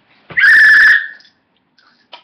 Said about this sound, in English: So I got my whistle from National Night Out.